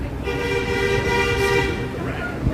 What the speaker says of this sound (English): He was beeping. He was honking.